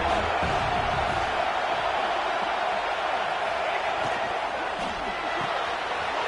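A loud stadium crowd roars steadily at a college football game during a third-down red zone play, a dense continuous wash of cheering and noise.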